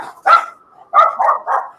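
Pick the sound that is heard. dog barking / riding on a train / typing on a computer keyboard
dog barking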